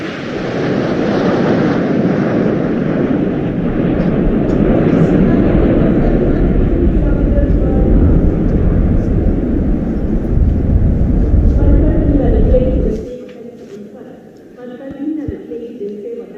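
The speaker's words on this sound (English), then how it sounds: "अमृत formation, जिसमें 6 Jaguar 750 kilometre की रफ्तार से उड़ते हुए" Six Jaguar jets flying past in formation at about 750 km/h during a Republic Day parade: a loud, sustained roar that fades out near the end, with an announcer speaking over it.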